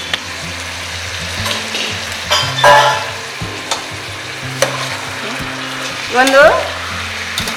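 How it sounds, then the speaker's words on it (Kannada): Masoori and basmati rice fry in ghee in a pan with a steady close sizzle, broken by the scrape and clatter of stirring, while someone speaks briefly over the cooking. "2 ನಿಮಿಷ ತುಪ್ಪದಲ್ಲೇ ಸ್ವಲ್ಪ ಹೀಗೆ ಹುರಿಬೇಕು."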